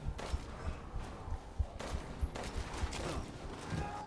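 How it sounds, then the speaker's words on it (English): Rapid bursts of gunfire from Resident Evil Village, sharp repeated shots in an uneven fusillade over a dense, noisy game soundscape, fairly loud and continuous for several seconds. "I'm just shooting him now."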